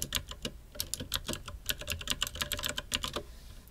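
Fast, light keystrokes on a computer keyboard come in quick bursts as a folder name is typed. The clicks are close and fairly quiet, with no talk.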